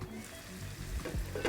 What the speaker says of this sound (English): I hear them sizzling in there.